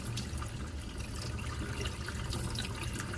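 Turmeric-dyed fabric rinsed under running water, a steady close faucet stream and splashing that continues unbroken throughout, with no talking.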